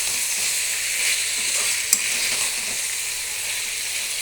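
Chopped tomatoes sizzle in a hot frying pan while gongura chicken curry cooks, a steady bright crackle with one brief sharper pop, close and alone.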